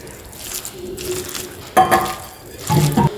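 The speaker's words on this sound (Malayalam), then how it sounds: "ഇച്ചിരിയും കൂടി വെള്ളം ആഡ് ചെയ്യുന്നുണ്ട് ഇതിലോട്ട്" Water is added to oats pakoda batter in a few splashy pours, with two louder bursts of liquid and light clinks of a bowl nearby.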